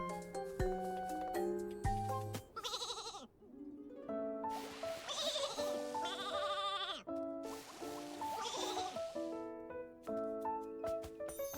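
Cartoonish sheep bleats sound several times during sheep grooming in the video game Infinity Nikki, over bright, plinking game music, with chimes and jingles weaving between the calls.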